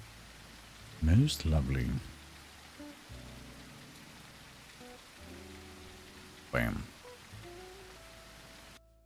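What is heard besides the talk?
played rain sound effect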